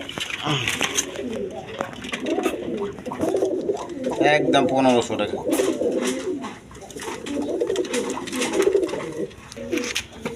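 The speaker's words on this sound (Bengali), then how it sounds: "এখানে এক পেয়ার কবুতর আছে" A pair of pigeons coo in soft, throaty rounds close by while someone talks steadily over them.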